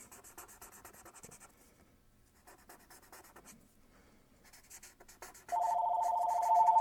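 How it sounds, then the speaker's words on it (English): A telephone begins ringing loudly and steadily near the end, after quiet scratching of markers on paper during a colouring session. "Ah, the phone is ringing."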